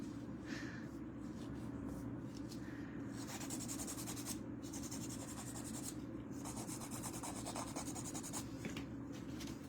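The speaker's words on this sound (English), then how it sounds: "Hopefully the filing isn't too loud in anybody's ears." Nail filing close to a microphone during a casual live stream, a steady scratchy rasping that runs continuously without pause.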